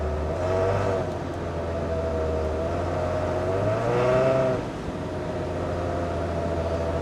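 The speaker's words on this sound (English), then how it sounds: "And listen to the exhaust." Exhaust of a Toyota Tacoma pickup truck, a steady low rumble with a rising rev around the middle before settling back, heard close and alone.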